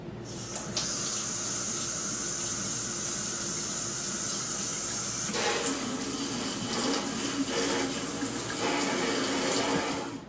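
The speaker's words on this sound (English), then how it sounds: "Now we're going to turn on the water, activate the diverter" Water runs from a kitchen tap through the diverter of a countertop water filter system, a steady close hiss and splash that shifts in tone partway through as the flow changes.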